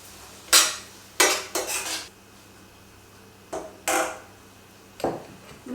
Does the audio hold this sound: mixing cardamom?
yes